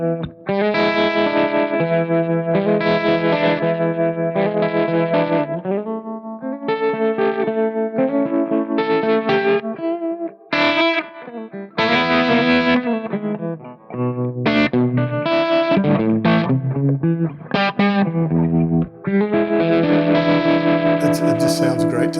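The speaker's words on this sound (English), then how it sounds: "That bias vary trim is that swampy kind of a tremolo" Electric guitar through a PRS DGT 15 amplifier using its bias-vary tremolo, chords and single notes pulsing with a swampy, wavering throb, loud and close with no talk over it.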